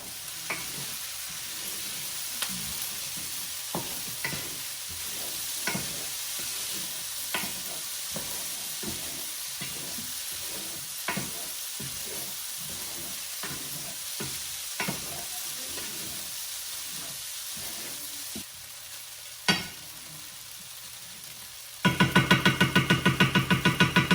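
Tofu scramble fries in a pan with a steady close sizzle, broken by regular scraping strokes of a spatula. Near the end a sudden louder, harsh rattling buzz takes over.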